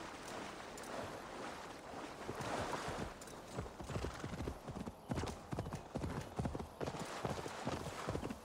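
Horse hooves clip-clopping in the video game Assassin's Creed Valhalla, a steady rhythmic trot growing clearer, with faint ambient wind and water behind.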